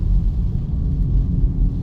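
A 2024 Acura Integra Type S drives on a wet road in the rain as the driver presses the throttle harder, heard from inside as a steady low engine and road rumble with no voices.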